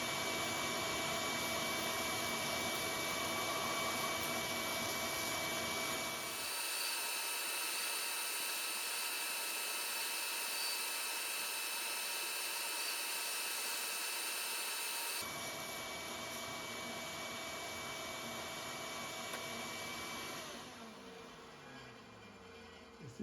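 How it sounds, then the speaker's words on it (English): A bandsaw cutting through wood: a steady, whining motor hum that runs for over twenty seconds, its tone shifting as the blade works through the board, then winding down at the end. "So that's what we're going to cut out with the bandsaw now."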